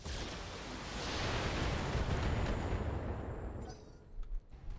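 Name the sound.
weapons fire in BattleTech video game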